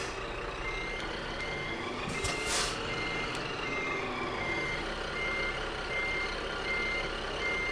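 A truck reverses in a driving video game, its backup alarm beeping steadily over a continuous engine drone, with no one talking.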